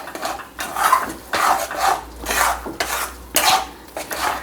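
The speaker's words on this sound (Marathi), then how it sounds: "हा कूट टाकून द्यायचा त्याच्यात पूर्ण पटपट हलवत राहायचा" Crushed peanuts stirred briskly in a pan for peanut chikki, a close, loud, rhythmic scraping of a spoon against the metal in regular strokes about every second, with no talking.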